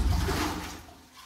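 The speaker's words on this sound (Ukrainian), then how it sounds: "Для того, щоб набрати повне відро, треба його чуть-чуть підняти" Water splashes and gurgles into a bucket lowered into a village well, a short close sloshing burst that tapers off within about a second.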